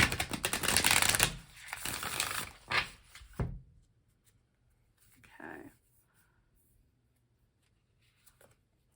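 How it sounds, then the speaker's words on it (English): Tarot cards are shuffled by hand in a few quick riffling bursts, fairly close and crisp, followed by a softer brief rustle and then near silence. "I'm going to do one other shuffle and we'll cut."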